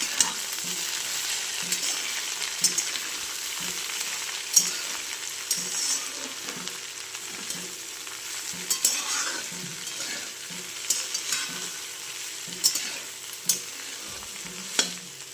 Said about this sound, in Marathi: कांदे टाकले आता हलवून घेतलं चांगलं एकदा